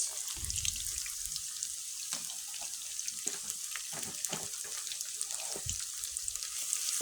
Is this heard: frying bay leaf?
yes